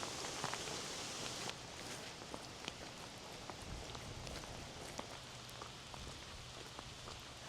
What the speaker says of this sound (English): We're out in the rain in the Lake District, hiking up a Wainwright called Silver How.